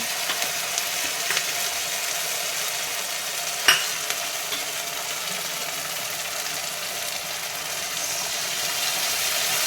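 A paste of poppy seed, melon seed, cashew and yogurt fries in a pan with a constant close sizzling hiss, one sharp utensil tap partway through, with no voices.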